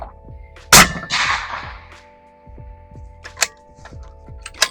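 A single loud, sharp report from a suppressed 7mm PRC Bergara HMR14 rifle fitted with a Dead Air Nomad suppressor, firing Federal Terminal Ascent ammunition, with a brief decaying tail and a few faint clicks and knocks afterward.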